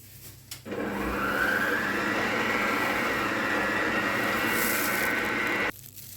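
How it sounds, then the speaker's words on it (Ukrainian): An electric mixer whips egg whites with a pinch of salt and citric acid, a steady loud whirring drone that starts abruptly, runs continuously for about five seconds and cuts off. "І збиваємо до такої піни"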